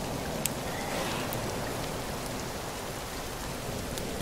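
Steady rain falling in the survival video game The Forest, a dense even hiss of drops on surfaces with no pauses or voices, a few slightly sharper drop ticks standing out.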